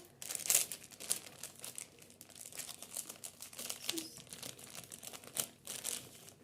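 A crinkly plastic package holding hair clips is opened by hand, giving soft, close crackling and crumpling in irregular bursts, with a brief tearing rustle near the start.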